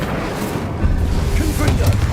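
An Incendio fire spell from the video game Hogwarts Legacy erupts in a short, loud, booming whoosh that swells after a quieter opening and then holds steady.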